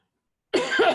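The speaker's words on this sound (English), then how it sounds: "I have to cough for a moment." A single short, close cough from a woman, sharp and dry, following a moment of silence.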